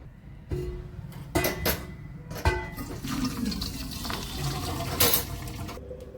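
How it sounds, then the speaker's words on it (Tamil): Hot water from boiled egg noodles pours out through a strainer in uneven gushing splashes, with sharp clatters of a pot and colander between the flowing bursts, close and irregular. "இப்போ அடுப்பை ஆஃப் பண்ணிவிட்டு தண்ணியை வடிச்சிட்டு எடுத்துகிட்டு வந்துடுவோம்."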